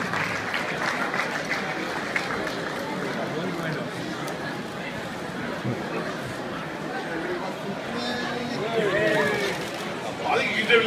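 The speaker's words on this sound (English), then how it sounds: "So for all of them, all a massive round of applause." Applause and crowd chatter from relatives gathered at an expo stage at Wembley Stadium for a swim team, a broad wash of clapping mixed with murmuring voices, swelling slightly near the end.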